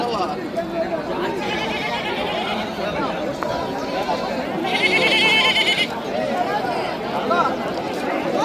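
Young goats bleat repeatedly amid busy crowd chatter at a weekly sheep and goat market in Karnataka, with people talking nearby throughout.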